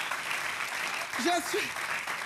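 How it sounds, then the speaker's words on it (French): Audience at an African stand-up comedy festival claps steadily throughout, with a voice calling out over the applause. "Applaudissez, franchement."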